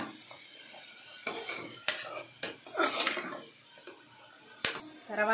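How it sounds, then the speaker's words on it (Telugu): Masala fries in a pan and gets stirred, with a faint sizzle under a string of sharp metallic scrapes and clanks of a utensil against the pan, some close and louder. "మసాలా బాగా వేగాలండి."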